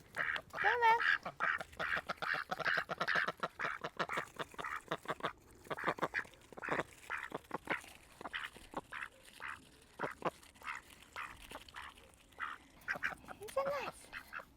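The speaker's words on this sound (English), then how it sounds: "My ducks, Domino and Daffodil," Two pet ducks on a homestead quack in rapid, busy chatter, a close string of short calls that thins into scattered quacks, with a person talking softly in between.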